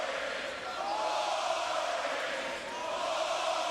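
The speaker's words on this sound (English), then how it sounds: "crowd is chanting boring." A large arena crowd at a UFC bout keeps up a sustained, loud chant of disapproval, with the massed voices merging into a steady rolling roar.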